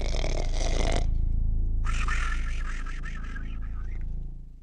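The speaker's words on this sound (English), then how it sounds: "the ogre finally fell asleep and started to snore like thunder" A cartoon ogre snores loudly, two long rasping, rumbling breaths separated by a short pause, alone with no talk.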